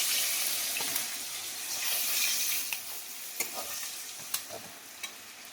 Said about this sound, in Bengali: এদিকে পটকাগুলোকে আমি ভেজে নিই